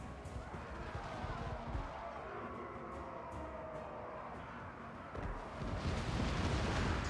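Dense, continuous rumble of artillery shots and explosions from a Total War: Warhammer 2 battle, a steady roar of overlapping booms with a few sharper bursts, growing heavier near the end.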